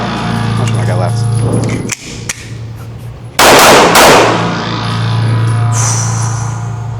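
A Glock 43x pistol fitted with a Radian Ramjet compensator fires: a sharp crack, then a loud, blasting report a moment later, over a steady background hum with voices nearby.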